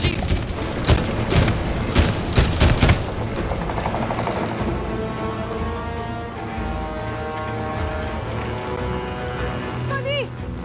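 Rapid bursts of game gunfire and booms crack out in the first few seconds, then give way to a steady mechanical hum and game sounds.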